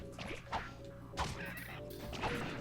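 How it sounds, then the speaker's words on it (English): Strikes of a wrench against sand sharks in the 2002 Ratchet and Clank video game, three short metallic whacks spaced about half a second apart over steady game background sound. "It takes 3 hits with the wrench, and it has a weird metallic sound."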